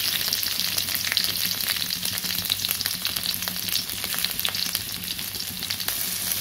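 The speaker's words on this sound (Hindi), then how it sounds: "प्याज को जरा सा भूनना है। अब इसमें डालेंगे प्याज" Onions frying in oil in a kadhai, a steady close sizzle with faint crackles running throughout without pause, no voices present.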